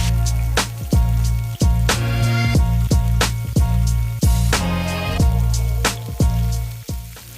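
Coconut-coated chicken fries in hot oil, giving a close, steady sizzle broken by frequent sharp crackles and pops, with a constant low hum running underneath and no voices.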